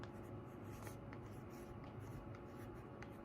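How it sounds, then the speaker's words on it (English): A pencil writes steadily across paper, a soft continuous scratchy rubbing with slight stroke variations, close and quiet, with no talking. "So let's try writing with my pencil."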